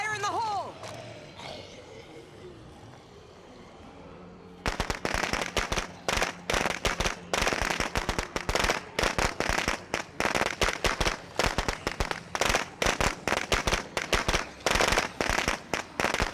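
Thrown explosive detonating in the zombie survival game State of Decay 2, a sudden loud blast followed by dense, sustained crackling pops and bursts that continue to the end.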